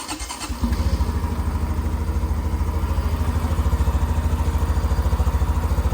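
A 2023 Honda Trail 125 motorcycle with a newly installed intake starts up after a brief crank and settles into a steady, loud, close idle with a rapid even putter.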